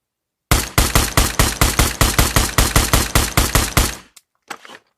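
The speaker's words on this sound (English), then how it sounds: "I shoot these headshots here at a faster pace" Pistol shots fired at a quick, even pace in the Pavlov VR game, with about twenty loud, sharp reports in a steady run, then silence and a faint brief clatter.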